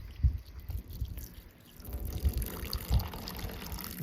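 Water from a hose splashes and patters over the hood of a Camaro, uneven trickling and dripping with a few heavier splashes, fairly faint and close, without talk.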